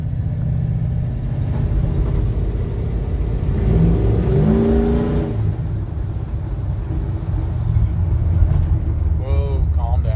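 A Ford Mustang nearby revs its engine in rising, throaty bursts, with car rumble filling the background while people talk over it.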